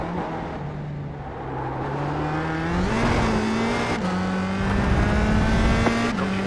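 A USF2000 open-wheel race car engine in the iRacing sim at Spa drones high and steady, its pitch climbing through the gears with brief dips at each shift, clear and without speech.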